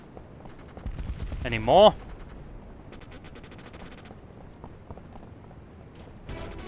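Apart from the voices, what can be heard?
gunfire in video game SOCOM US Navy Seals II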